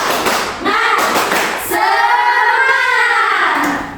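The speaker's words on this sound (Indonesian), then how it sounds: "Kita tepuk semangat dulu ya" Students in an Indonesian-language teaching class perform a rhythmic spirit clap, sharp patterned hand claps mixed with group chanting voices, loud and close, lasting a few seconds.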